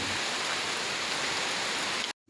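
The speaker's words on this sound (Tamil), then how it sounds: "அவ்வளோ சூப்பராக மழை பெஞ்சிக்கிட்டு இருக்கு." Heavy rain falling in Kerala, a dense, even rushing hiss that fills the whole stretch and cuts off abruptly near the end.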